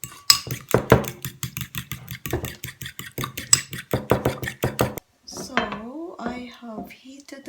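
Utensils scrape and clink against a cooking pan as spices such as celery seed are mixed, a steady run of metallic taps for several seconds, followed by a voice speaking.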